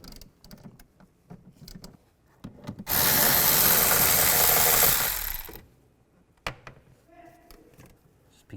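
A T30 socket spins out valve cover screws on a 2003–2010 BMW X3, a loud sustained ratcheting burst of about three seconds amid softer clicks and handling noises before and after.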